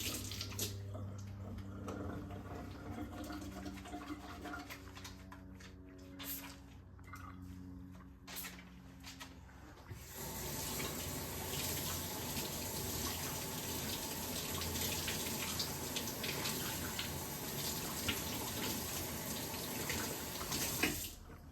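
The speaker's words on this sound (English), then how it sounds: "the first thing we're gonna do now, we're gonna wash our hands" Running sink tap water pours steadily for hands being washed before cooking, a quieter stretch with small splashes and clatters giving way after about ten seconds to a loud, continuous full-flow rush.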